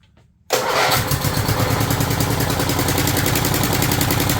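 Snapper rear-engine riding mower engine cranks and catches abruptly, then runs at a loud, steady close idle with a rhythmic putter.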